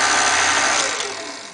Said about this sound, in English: You're going to put this in your blender and you're going to blend until it's mixed